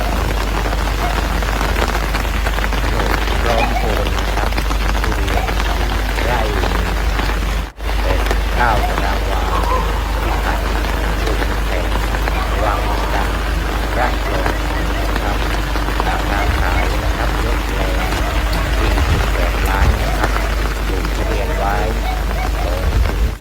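Steady, loud rain pours over a durian orchard near Wang Chan, Rayong, a dense hiss with drops drumming on leaves that continues throughout, with only a brief dip partway through.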